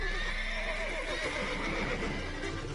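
Horses neigh and whinny in The Witcher 3 video game, a steady mix of whinnies with faint hoof clip-clop beneath, no voices, running continuously at moderate loudness.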